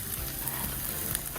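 Rolls toasting on a hot griddle in a TV studio kitchen, a steady close sizzle and crackle with a few light scrapes and no talking.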